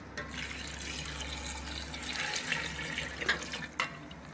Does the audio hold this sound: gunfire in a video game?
no